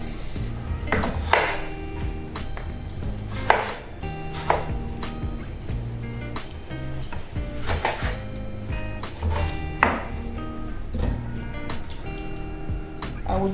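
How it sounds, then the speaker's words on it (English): Knife slicing fresh tomatoes on a cutting board in a home kitchen, a series of irregular thuds and taps at uneven intervals, close and moderately loud with light kitchen clatter between cuts. "So let's slice our tomatoes as I will be blending it."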